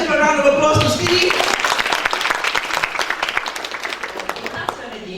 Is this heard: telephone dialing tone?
no